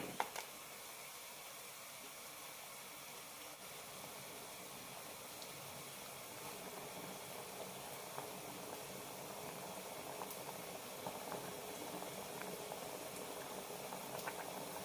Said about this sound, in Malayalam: രണ്ട് മിനിറ്റ് നന്നായി തിളപ്പിക്കുക